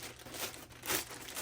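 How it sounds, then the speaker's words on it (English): Small plastic parts bags crinkle and rustle in a workshop, close and moderately loud, in several uneven handling bursts with no one speaking. "We always get these little plastic bags here, and they're nice little plastic bags."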